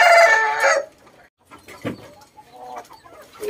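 Pure Japanese shamo chickens in a backyard flock, one rooster crowing loudly at the start, then scattered softer clucks and calls around the yard.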